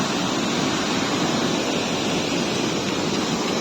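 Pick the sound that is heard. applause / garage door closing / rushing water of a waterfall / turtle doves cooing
rushing water of a waterfall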